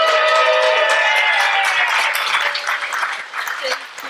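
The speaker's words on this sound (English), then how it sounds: "a warm round of applause for Cheri" Warm audience applause greets a gardening talk speaker at an evening event, a dense wash of many hands clapping loudly that thins slightly toward the end.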